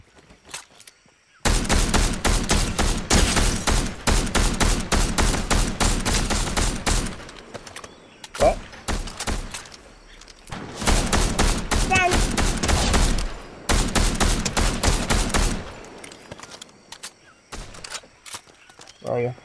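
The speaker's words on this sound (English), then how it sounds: "there are gunshots over this way" Bursts of automatic gunfire in the video game Fortnite: long rapid strings of shots, a pause with a couple of single cracks, then another sustained burst, fairly close and loud with faint talk between.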